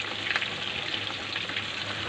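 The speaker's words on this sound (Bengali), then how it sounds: "এখন হচ্ছে রোস্ট রান্না করতেছে" Chicken roast frying in a pan, a steady, even hiss of sizzling oil heard up close with no speech over it.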